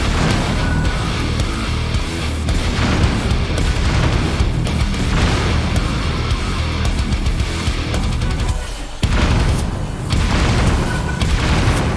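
Rear-mounted cannons on a Korok battle mech in a Zelda video game fire in a run of loud, booming blasts, heard alone against a dense, rumbling backdrop of game action.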